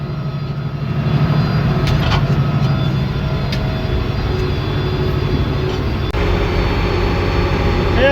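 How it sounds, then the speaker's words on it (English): A new forage chopper fitted with a Kemper head harvests corn silage, making a loud, continuous mechanical roar and hum with scattered clanks and ticks throughout. "so far, new chopper's working excellent"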